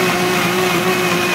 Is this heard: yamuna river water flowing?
no